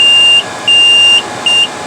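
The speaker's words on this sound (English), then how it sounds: "Sorry about the loud beep." A BGA rework station, working on a MacBook Pro 15-inch Early 2011 logic board during a GPU replacement, gives three loud, steady electronic beeps in a long, long, short pattern, with no talking.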